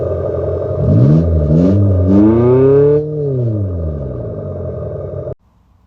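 An Abarth 500e electric car plays its synthetic engine sound, loud and close, revving up and down in rising and falling sweeps like a petrol engine before cutting off abruptly.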